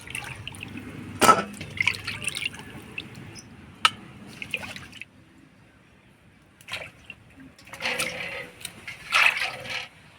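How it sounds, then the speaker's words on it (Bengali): Hilsa fish pieces are rinsed in water, with intermittent splashes, drips and sloshing in scattered bursts, fairly close and moderately quiet. "মাছগুলো পরিষ্কার করে ধুয়ে নিলাম,"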